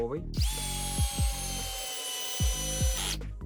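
A Pro-Craft cordless screwdriver drives a turbo screw into wood: a loud whirring motor run of a few seconds, the pitch dropping as the screw bites, with brief starts and stops around it.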